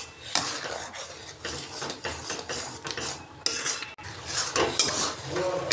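A spoon scrapes and stirs thick sandesh mixture with ghee in a pan on the stove in a steady back-and-forth rhythm. Metal knocks sound close up over a soft, bubbling sizzle.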